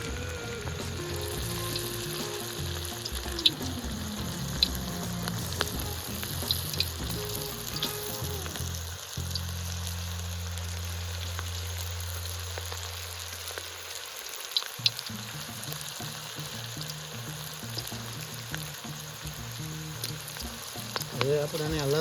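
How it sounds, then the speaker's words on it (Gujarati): Manchurian balls frying in hot oil in an outdoor village farm setting, a steady dense crackling sizzle throughout with a low background hum that drops and returns, occasional light knocks. "એમાં હવે આપણે તેલ આવી ગયું છે. હવે ગોટી નાખી દેવાની છે."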